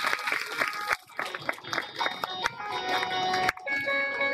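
An audience at a Devi Bhagavata Purana katha gathering claps along in quick, uneven bursts while a tonal melodic accompaniment plays under it, with a brief drop in the middle.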